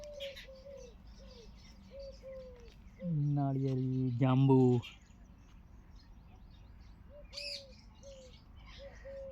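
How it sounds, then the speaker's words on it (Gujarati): Birds perched in trees, near coconut palms, chirp and coo repeatedly in a gentle rhythm, the soft, regular coos continuing while someone speaks briefly in the middle. "સરસ મજાના ઝાડવા ઉપર પક્ષીઓ બેઠા છે. અવાજ આવી રહ્યો છે સરસ મજાનો."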